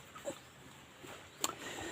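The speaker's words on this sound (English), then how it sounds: "This is the friendliest little dog." A small, friendly dog gives soft whimpers and a brief sharp yip, faint and close amid a quiet outdoor background.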